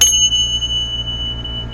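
A healing bell rings once, its bright metallic tone sustaining steadily and fading slowly over a low hum, with no voices.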